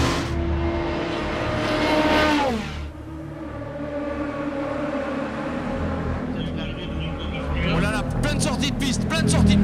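A race car roars past at speed during the 24 Hours of Le Mans, its engine pitch sweeping down, then more engine revving later with a voice talking over it.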